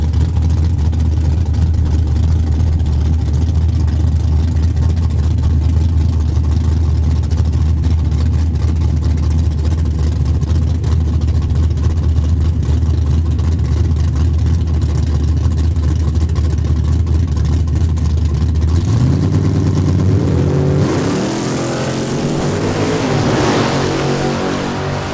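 Mopar race cars including a Dodge Daytona at a drag strip, a loud sustained engine roar holding steady for around twenty seconds before shifting into rising revs near the end.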